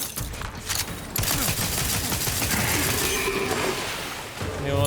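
The player's gun in The Outer Worlds 2 fires a sustained, rapid volley of loud, close shots, with a brief crackling burst first and then continuous automatic fire over several seconds.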